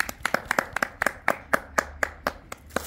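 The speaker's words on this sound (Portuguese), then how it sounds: "receba as nossas palmas" A few people clap by hand at home to celebrate Ana Maria while presents are opened, about fifteen close, distinct claps in a loose, slightly uneven rhythm, quiet overall with no talk over them.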